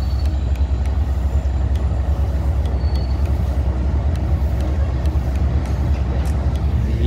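A diesel locomotive idles and rolls slowly at platform 1 of a railway junction, giving a loud, steady low engine drone with faint clicks and hiss over it.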